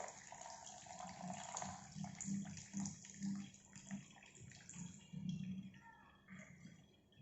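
Water runs and trickles steadily from soil samples in a permeability test setup, a quiet continuous flow with faint splashing pulses, fairly distant and low in level.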